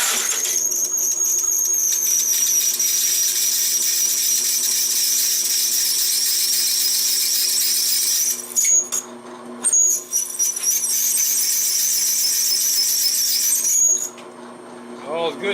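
A drill bit grinding through a hardened steel mower blade, a loud, continuous high whine with a steady motor hum beneath, breaking off briefly twice before resuming, then stopping near the end.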